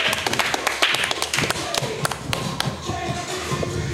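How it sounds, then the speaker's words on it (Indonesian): Scattered audience clapping for a performer on stage, uneven and moderately loud, with sharp irregular claps, shuffling and thumps, and faint crowd voices underneath. "Beri tepuk tangan untuk Timothy."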